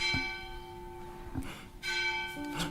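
Church bells ring with rich sustained overtones, several strikes spaced across the clip, resonant and moderately close, with no talking.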